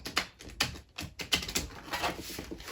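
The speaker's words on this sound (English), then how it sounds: "My cards are really playing up at the moment when I'm shuffling." Quick bursts of papery riffling and flicking as reading cards are shuffled, several short shuffles in a row with brief pauses, close and fairly quiet.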